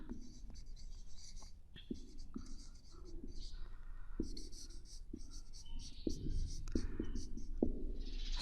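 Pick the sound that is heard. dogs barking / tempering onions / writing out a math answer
writing out a math answer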